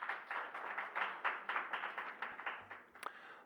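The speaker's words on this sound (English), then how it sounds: "Can we please give them another round of applause?" Scattered audience clapping after the launch of a report on safeguarding female journalists online, a modest round of hand claps at steady pace, fairly quiet and fading slightly near the end.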